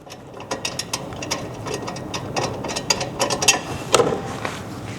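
A ratchet wrench clicks rapidly as the mounting bolt comes off the factory horn of a 2022 Subaru WRX. The clicking is close and runs in uneven bursts, with a sharper metallic clink near the end and no talking.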